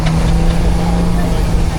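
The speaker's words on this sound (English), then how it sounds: "A Marshall S-type compound engine" A Marshall S-type compound steam engine, once a road roller, runs at a steam rally in Worcestershire with a steady low mechanical drone and a constant hum, close and fairly loud with no talk.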